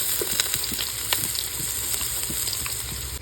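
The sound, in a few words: onions frying in a pan for beef curry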